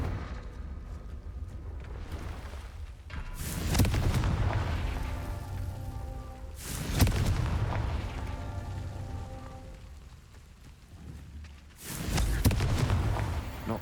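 Confringo blasting spell explosions in the Hogwarts Legacy video game: three booming, rumbling blasts a few seconds apart, each with a crackling tail, over a soft continuous game backdrop.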